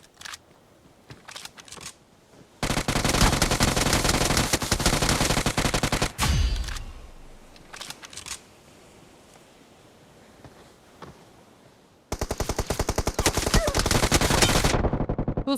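Machine gun fire in PUBG Mobile, with long loud sustained bursts of rapid shots separated by quieter pauses, and a final burst near the end.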